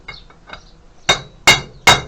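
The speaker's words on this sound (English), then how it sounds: "Just give that a gentle tap." A hammer taps a metal part in a repair workshop, striking three times in sharp, ringing clinks spaced about half a second apart after a couple of faint lighter touches.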